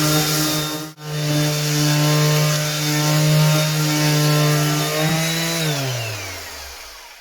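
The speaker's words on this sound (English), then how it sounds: "So it's all got to be sanded first to key it all up before you can do anything else to it." A power sander runs on a boat's gel coat with a steady high droning whine that cuts out briefly near one second, then winds down in pitch as the tool spins to a stop at the end.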